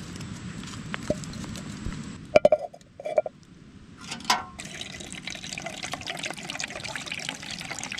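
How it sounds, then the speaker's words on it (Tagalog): Water is poured into a pot at a wilderness motocamping campsite, a trickling, splashing stream with a few metallic clinks of the container, close and steady with no talking. "Ito na tayo magpainit ng tubig."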